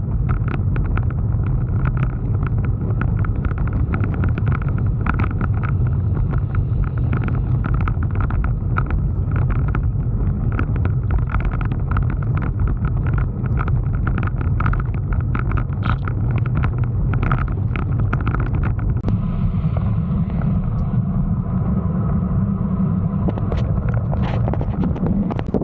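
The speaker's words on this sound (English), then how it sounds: "See, now when there are headwinds plus crosswinds, you will use a lot of energy, especially with crosswinds." Strong headwind and crosswind buffeting a microphone while cycling on a long Kenyan road ride, a loud continuous low roar with gusty rumble throughout and a slight drop in intensity near the end, no voices.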